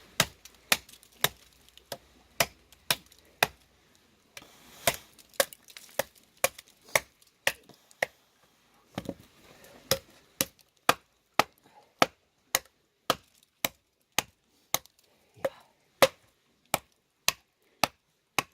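Sharp, evenly spaced chops of a machete biting into hard, fairly dry wood, with a CS Gurkha Kukri Plus and TOPS 0.170 machete in use; about two dozen crisp, loud impacts in steady rhythm with short pauses.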